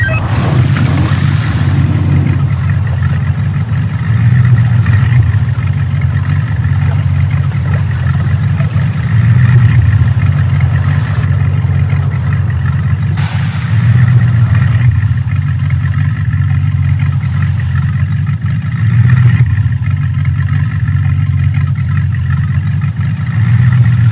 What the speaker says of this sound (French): Eh bien Ralph, comme vous l'entendez, le moteur ronronne.